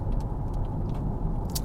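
A Jaguar XF S cruises along the road, giving a brief, steady low rumble of engine and tyre noise at moderate level, with a faint higher hiss flickering over it.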